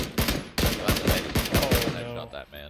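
Gunfire in the PUBG battle royale video game: a quick burst of several sharp, loud shots in rapid succession, close and punchy, followed by a few fainter reports at the end.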